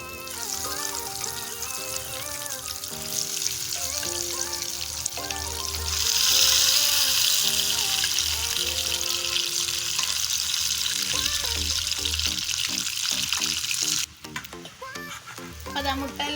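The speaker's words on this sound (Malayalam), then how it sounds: "അത് മുട്ടയെല്ലാം ഫ്രൈ ആയിട്ടുണ്ട്." Boiled egg halves rubbed with salt, turmeric and chili powder fry in hot oil, giving a steady sizzle and crackle under background music that swells briefly midway.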